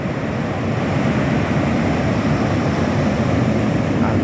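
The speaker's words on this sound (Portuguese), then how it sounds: "Aqui é a praia," Surf washing onto the beach at Balneário Pinhal, a steady broadband rush with constant wind noise across the microphone, loud and unbroken, with no distinct breaking wave.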